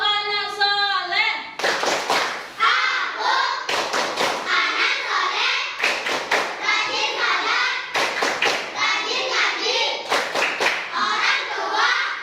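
Children chant and clap the Tepuk anak soleh clap chant in unison, sharp rhythmic bursts of clapping interleaved with their voices in repeating phrases, led off by an adult voice.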